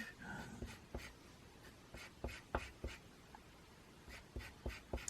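A pencil drawing detail on paper, with faint, scratchy strokes in irregular short bursts, heard close and alone in a quiet room.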